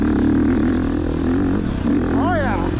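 A Husqvarna FX 350 dirt bike, 2022 model, climbs a hill in second gear, its engine droning loud and steady throughout with a brief rising whine near the end.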